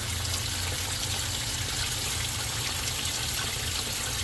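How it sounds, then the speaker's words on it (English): A 3/4 horsepower sump pump installed to clear standing water from a yard discharges a steady, dense rush of water with a low mechanical hum underneath, continuous and close, with no voices. "this pump's going to come on, and in a short amount of time, you see how quickly it moves that water"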